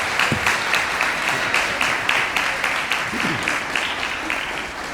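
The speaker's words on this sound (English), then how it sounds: "Let's give her a strong round of applause." An audience at a benefit concert applauds warmly and steadily, sustained clapping with a faint voice or two briefly rising beneath it.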